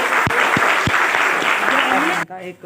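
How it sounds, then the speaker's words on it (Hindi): Audience applause at a gathering of attendees from nine districts of Madhya Pradesh, a loud sustained burst of clapping that cuts off sharply near the end, with a voice speaking briefly afterward. "तो यानी खाली एक बार आप सबके लिए जोरदार तालियां हो जाए।"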